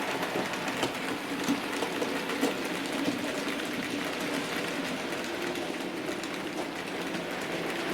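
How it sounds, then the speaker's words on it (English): A Bachmann 31-531 Trimbush model locomotive runs continuously, producing a steady, faint whirring hum with light rattling. "I hope you've enjoyed seeing this locomotive run."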